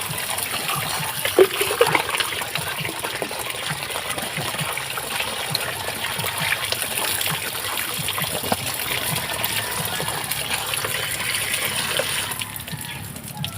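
Warm water pours steadily for a bath, a continuous gushing splash with small surges, fairly close. It runs throughout and eases slightly near the end, with faint voices now and then.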